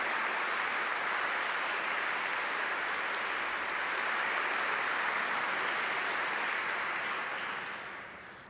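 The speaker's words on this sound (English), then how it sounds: "I'd like to ask our graduating students to applaud to show your appreciation to those people whose love and support have helped you reach this milestone" Graduating students at the 2021 Duke Law School graduation ceremony applaud in a steady, sustained wash of clapping from a sizable crowd that holds evenly, then tapers off toward the end.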